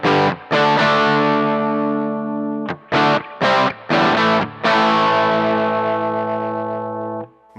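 Guitar through a distortion pedal on a Line 6 HX Effects with the treble cut lowered for a brighter tone: a sustained driven chord, then several short choppy stabs, and a final ringing chord that cuts off.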